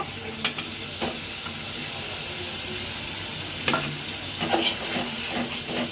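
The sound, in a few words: onion and garam masala frying in a pan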